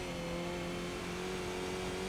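A Skip Barber race car engine revs hard and steadily at Zandvoort in a racing video game, a loud continuous drone rising through the gears with no talk over it.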